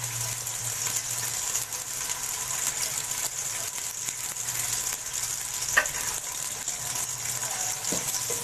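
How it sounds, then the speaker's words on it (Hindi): Onions frying in hot oil for sabzi polao give a steady, fairly quiet sizzle that runs without a break, with a faint clink of stirring near the end. "ऑयल गरम हो चुका है, अब इसमें डालेंगे प्याज।"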